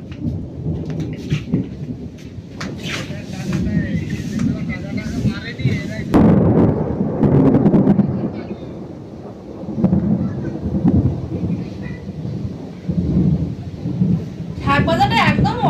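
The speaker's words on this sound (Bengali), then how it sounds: "কি জোরে মেঘ ডাকছে।" Loud thunder rolls and rumbles through a storm with rain falling, deep booming swells rising and fading across the whole stretch while someone talks beneath it.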